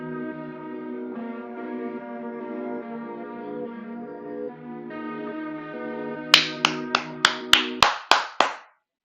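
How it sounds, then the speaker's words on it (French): Eight sharp hand claps ring out one after another at a brisk, even pace, loud and close, following a stretch of sustained synth-like music with no talking. "Franchement, moi, j'applaudis"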